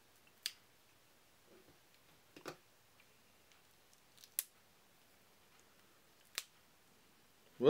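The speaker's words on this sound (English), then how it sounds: "Fight with the cellophane." Cellophane shrink wrap being peeled off a board game box of Kickstarter extras gives a few sparse, quiet crinkles and sharp crackles spread over several seconds, with near-silence between them.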